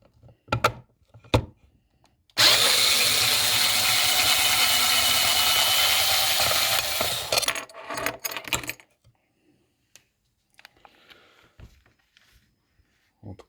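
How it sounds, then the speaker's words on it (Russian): A power tool whirs steadily for several seconds while unscrewing small bolts on a Lada Kalina's Bosch 7.9.7 engine control unit, followed by clinks and light handling of loose parts. "Отворачиваем все 4 болтика."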